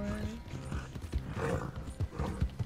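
Horse hooves clip-clop in Red Dead Redemption 2 in an irregular run of soft thuds, mixed with creaks and game sounds, and a voice may be faintly present underneath.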